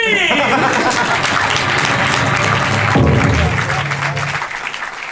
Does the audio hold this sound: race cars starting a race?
no